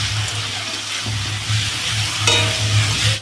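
Ginger garlic paste fries in a pan for a chicken dish, with a close, steady sizzle and spatula stirring over a low hum, while a brief watery gush joins in partway through.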